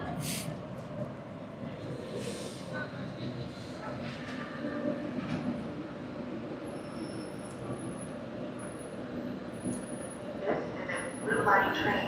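A Salt Lake City Blue Line light rail train rumbles past with a steady low roar, wheels squealing faintly near the end, and a few high electronic beeps over the noise.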